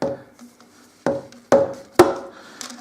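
A small nylon hammer taps a motorcycle engine part on a Suzuki DL1000 V-Strom, four sharp, close knocks spaced roughly half a second apart, each with a brief ringing decay, no voices.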